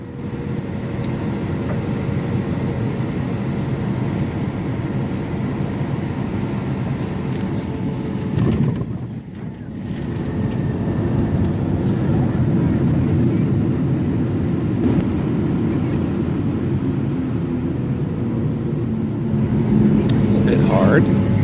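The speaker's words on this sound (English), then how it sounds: "Landing in St. Louis." A Southwest Airlines jet landing in St. Louis, heard from inside the cabin as a steady, loud low roar that rises with a surge of engine noise as the plane slows, with talk over it.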